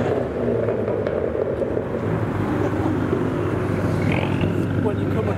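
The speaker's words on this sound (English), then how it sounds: "the induction's still going on. These cars actually sound crazy." A Ferrari 488 Pista supercar in London roars with a loud, steady engine and induction noise that holds the whole time, a thick continuous rumble with no break.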